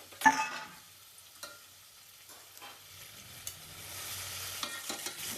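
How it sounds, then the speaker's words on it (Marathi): Onion browns and chicken pieces fry over a low flame in a home kitchen pan, a soft steady sizzle with a few sharp stirring clicks and utensil taps, no voices. "तो कांदा पण असा सोनेरी कलर येईपर्यंत बारीक गॅसवरती फ्राय करायचा आहे असं"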